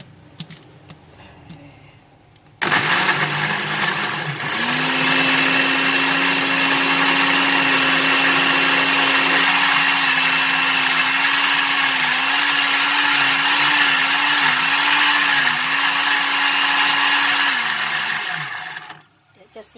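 An electric blender whirs steadily while pureeing kimchi seasoning paste, a loud continuous motor drone starting abruptly, its pitch wavering slightly as the load shifts, running about fifteen seconds before spinning down and stopping.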